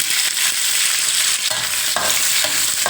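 Kaffir lime leaves and young green peppercorns dry-roasting in a hot wok, a loud, close crackling sizzle broken by bursts of scraping and tossing as the spatula stirs, with no talk.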